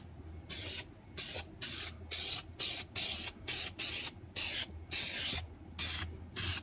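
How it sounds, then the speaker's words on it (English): Repeated short hissing bursts of an aerosol spray glue can on VW Beetle kick panels, about a dozen evenly spaced blasts with brief pauses between them, close up. "take the spray glue on top,"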